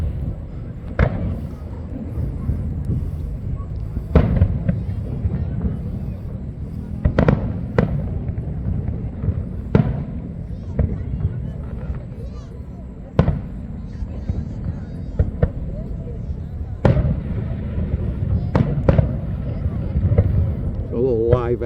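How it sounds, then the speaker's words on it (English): Fireworks burst over Biscayne Bay at Peacock Park in Coconut Grove after a drone display, sharp cracks and booms popping irregularly every second or two over a steady crowd murmur and wind noise, with people chatting throughout. "A little fireworks action after the drone display here at Peacock Park."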